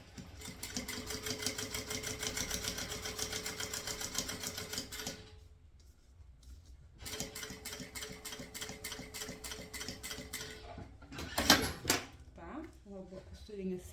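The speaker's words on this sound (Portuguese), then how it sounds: "vamos fazer uma costurinha aqui de segurança" A sewing machine runs in fast rhythmic bursts as it stitches a securing seam along the edge of a round fabric bag. It pauses briefly and then resumes, with a few clicks near the end and someone speaking quietly in Portuguese at times.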